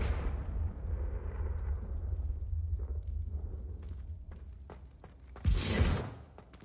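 A Confringo fire spell detonating in Hogwarts Legacy: a sudden loud fiery blast with a bright crackling burst near the end, following a low rumbling game ambience with scattered clicks and small impacts.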